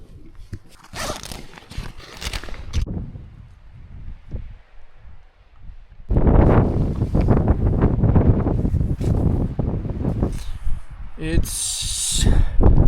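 Wind gusting around a tent pitched in snow during a winter wild camp, a steady roaring hiss that swells louder in the second half, with scattered bursts of talk over it.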